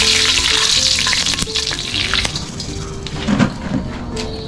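Annatto seeds fry in heated oil, producing a loud, dense, crackling sizzle with occasional stirring clinks and scrapes, close up and continuous, with no talking.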